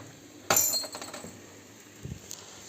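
A tea glass is set down on a breakfast table with a sharp clink, followed by faint rattling and a few soft knocks of tableware, no talking.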